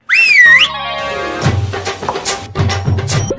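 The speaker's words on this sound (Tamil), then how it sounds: "Umpire, whistle ஊதுங்க." A loud, rising whistle blast from an umpire opens a cricket match, lasting about half a second, then gives way to busier background sounds with music-like tones and thumps.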